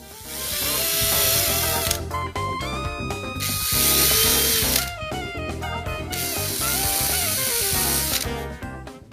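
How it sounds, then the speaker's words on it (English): A power drill whirs loudly in three long bursts, close by, drilling screw holes for a barn door handle, with short stops between them and mechanical rattling as it bites. "drill the holes for the screws."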